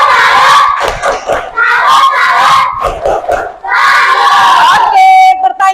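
A classroom of children doing a clapping chant, their voices shouting together in loud rhythmic bursts punctuated by claps, ending on a sustained shout.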